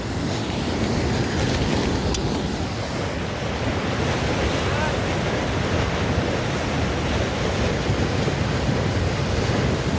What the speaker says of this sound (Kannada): ರಸ್ತೆಯಲ್ಲಿ ಹೋಗ್ತಾ ಇದೆ ಅರ್ಧ ನೀರು